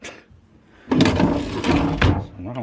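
A droopy drawer in a built-in dresser slides with two loud, close scraping bursts, one near the start of the sound and another about a second later, over a low, steady background.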